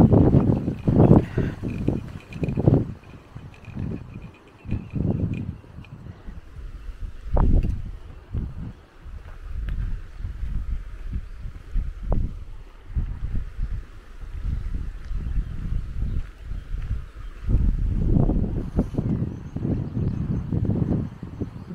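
Gusty wind buffets the microphone in loud, uneven low rumbles, rising and falling in irregular bursts throughout.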